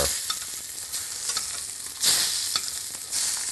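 Scallops searing in a hot pan while being basted with thyme and butter, a steady crackling sizzle with repeated spoon-scrape swooshes and bursts of spattering, close up with no talk.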